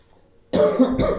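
A single close, loud cough bursting out of near silence, with a rough second push trailing right after.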